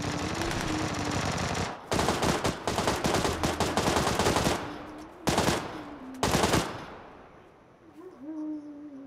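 Automatic and rapid gunfire in the battle royale game PUBG comes in several loud bursts of close rattling shots with short pauses between them, then fades into quieter game ambience.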